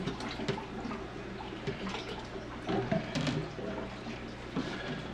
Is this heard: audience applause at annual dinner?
no